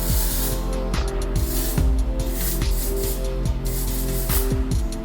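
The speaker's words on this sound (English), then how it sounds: "I'm gonna spray it with a little bit of the Way Memory Mist." Way Memory Mist is sprayed onto hair during styling, an airy hiss close to the microphone over background music, with no talking.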